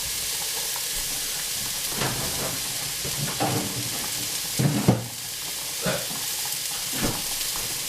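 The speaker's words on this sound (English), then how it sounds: "So I try to use take a splash of water so you get the steam going" Food sizzling and steaming in a frying pan after a splash of water, a constant hiss with bursts of crackle and spitting as it is stirred, close and steady without talk.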